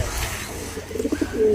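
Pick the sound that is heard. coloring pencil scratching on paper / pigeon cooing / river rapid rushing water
pigeon cooing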